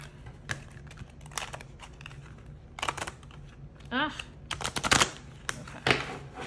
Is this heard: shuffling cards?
yes